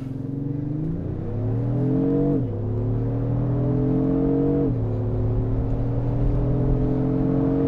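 A 2024 Lexus GX 550 Luxury+ with a 10-speed automatic in Sport Plus mode launches hard from a standstill after brake-holding. The engine note climbs loud and steady, with two distinct upshifts where the pitch drops and climbs again, and no talking.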